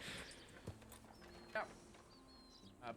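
Horse hooves clip-clop in a video game, a few faint, sparse hoof knocks under quiet game ambience and distant chatter.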